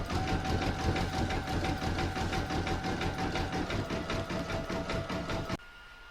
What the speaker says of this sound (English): Now I'm going to stitch round number 9, which is the satin stitching around the letter E.